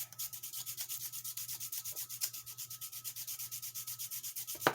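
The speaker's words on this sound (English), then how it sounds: "use the sandpaper here and like make a powder" Sandpaper rubbed against a stick of charcoal to grind it into powder, a close, steady back-and-forth scratching in an even rhythm with no voices.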